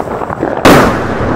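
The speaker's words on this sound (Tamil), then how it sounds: "அம்மா வந்து இந்த பட்டாசு தான் வைக்க போறாங்க" A firecracker goes off outdoors with one sudden loud bang that breaks through a noisy background and leaves a broad, lingering crackle and rumble, with no talking over it.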